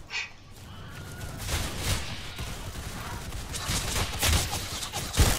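Rapid rifle gunfire in a trench-warfare battle game, a steady stream of bursts and cracks running throughout, with heavier shots near the end amid a busy, noisy battlefield.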